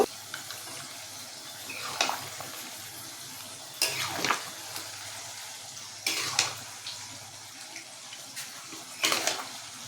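Chicken meat being stirred with powdered spices in a pot, a soft continuous sizzle broken by several distinct bursts of scraping and stirring, close by and without talk.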